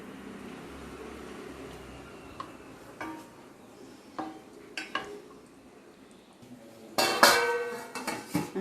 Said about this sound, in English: We have to use this wooden spatula like this slowly.